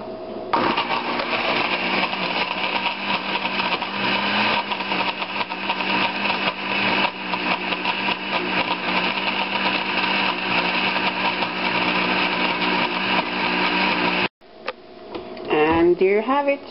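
A kitchen blender whirs loudly and continuously, crushing ice cubes with banana, peanut butter and water into a smoothie, then cuts off abruptly near the end before a voice speaks briefly.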